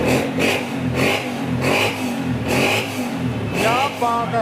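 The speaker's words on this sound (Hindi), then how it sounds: "Honda 125 gold edition self star 125 कड़क साउंड" Honda 125 Gold Edition self-start motorcycle engine revs in repeated bursts, rising and falling roughly every second, loud and close, with some faint voices mixed in.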